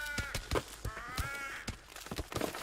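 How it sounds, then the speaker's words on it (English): Auto-tuned crows cawing, a run of harsh pitched caws with a warbling processed tone, several quick calls in a row, close and clear. "Auto-tuned crows?"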